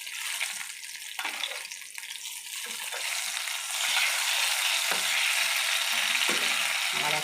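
Pointed gourd (potol) frying in a small amount of oil, giving a steady close sizzle that grows slightly louder partway through, with faint scraping stirs and no voices.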